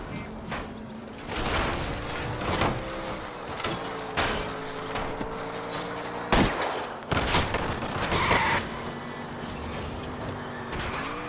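Gunfire in the LA Noire video game during a car chase, with several sharp shots spread over a rumbling engine drone, some in quick pairs, loud and close.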